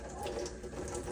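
Tap water running steadily over a white baby bottle insert at a kitchen sink, a continuous close rinse with no talking.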